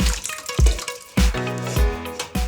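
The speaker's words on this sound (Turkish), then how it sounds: "Püreyi içerisine döküyorum." Vegetable puree for tarhana pours into a bowl in a home kitchen, giving wet, splashy liquid sounds in a few separate bursts with drips and faint clatter between them. No one speaks.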